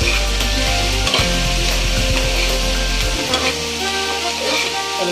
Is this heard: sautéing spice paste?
yes